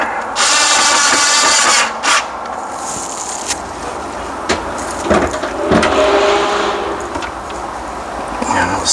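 A power driver whirs in loud bursts, driving a screw back in during speedometer repair on a 1993–97 Dodge van RV, with short pauses, ratcheting clicks and a voice talking between runs.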